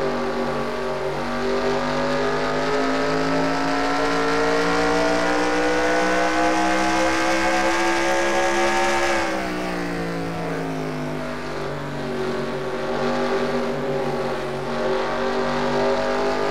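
Race car engine screaming at high revs along the track in a stock car racing video game, steady loud harmonic whine with a brief drop in pitch as it lifts and shifts, then pulling back up, heard alone.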